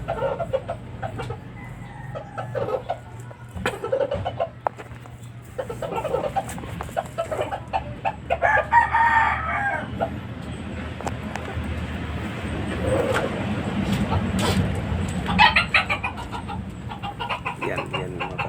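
Red junglefowl (labuyo) rooster clucking repeatedly in short bursts, with occasional crowing, fairly near and loud over outdoor background noise.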